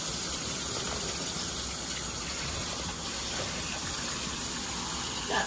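Hot water rinsing through box braids, a steady close spray and gushing hiss of running water that stays even throughout, with no talking.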